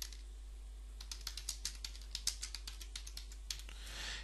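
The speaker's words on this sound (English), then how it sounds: "so we type in 100 for 100 millimeters" Someone types on a computer keyboard while entering values into surveying software, with quiet, close key clicks in an uneven run of taps that ends in a brief soft rustle.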